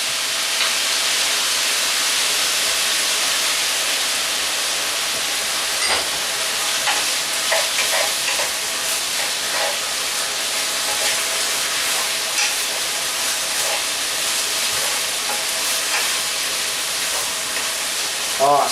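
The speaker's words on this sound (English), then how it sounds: "Give that a good stir fry. And then I'm going to toss in my vinegar." Potato strips stir-fry in a wok for a Chinese-style dish. A loud, continuous sizzle and hiss runs throughout, broken by the scrape of a utensil stirring the food.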